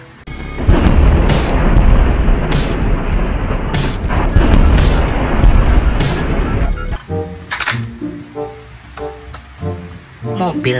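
Battle tank firing, heard as a sustained heavy booming blast for several seconds followed by scattered sharp pops and bangs, loud and close.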